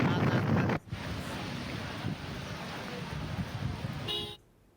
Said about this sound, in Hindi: बरेली में आए तेज आंधी तूफान ने कहर बरपाया।